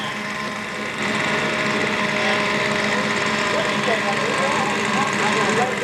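A twin-engine model DC-3 aircraft with 84-inch wingspan and two OS-40 engines drones steadily at a scale model competition, a continuous buzzing engine note that holds level throughout.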